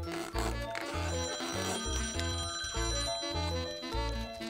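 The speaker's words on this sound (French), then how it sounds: "Tu réponds au téléphone, Ruby?" A telephone rings in a children's cartoon household, its bright electronic trills repeating in quick even bursts, clear and close with no talk over it.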